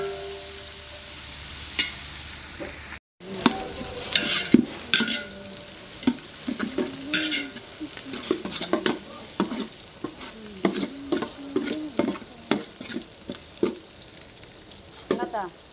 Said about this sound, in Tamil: ஆயில் ஊற்றிருக்கோம், கொஞ்சமாக டால்டா போட்டிருக்கோம், பட்டை கிராம்பு அந்த பட்டை வகைக்கு போட்டு வெங்காயம் போட்டு கொஞ்சம் ஃப்ரை பண்ணுவோம்